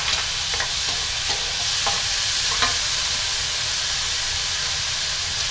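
Minced pork sizzles loudly in a pan as seasoning sauce goes in, with a constant hiss and a few light spoon taps and stirs.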